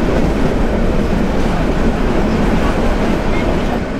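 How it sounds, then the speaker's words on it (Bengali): Meghna Express intercity train rolling at Feni Junction, a loud, dense rumble of wheels and carriages that stays steady throughout with no clear talk. "সকালবেলা মনে হয় প্রথম ট্রেন এটি ফেনী জংশন"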